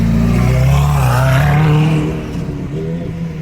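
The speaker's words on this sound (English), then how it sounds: "Ferrari, baby. We'll listen when it goes by." A Ferrari sports car accelerating past in moving traffic on a Miami Beach road, a loud, close, throaty engine roar that swells and then eases off as it moves away, with no talking.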